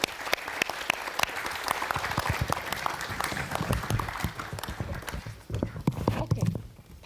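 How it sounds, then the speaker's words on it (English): Audience applauding panelists at a Nordic clinker boat conference, a dense, steady burst of many hands clapping that carries on for several seconds and swells again near the end. "let's give one more applause to the panelists"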